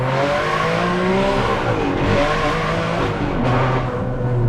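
A Ferrari Enzo V12 hypercar with a semi-automated manual gearbox accelerates on an open road, its engine howling loud and close and sweeping up in pitch, with brief dips at the gear changes.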